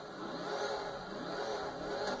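The Sultan RS rally car's engine revs in GTA 5, a steady, fairly faint mid-pitched drone that holds through the short stretch.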